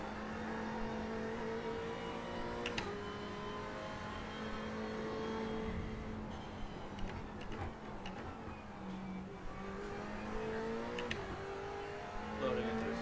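Race car engine in iRacing at Bathurst during night practice, a steady droning note that rises and falls through gear changes and lifts, with repeated ticking clicks and brief shifts, heard close and continuous.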